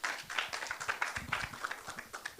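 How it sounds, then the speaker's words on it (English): A conference audience applauds in a short burst of dense, mid-distance clapping that rises and falls unevenly without talk. "Please welcome him with a round of applause."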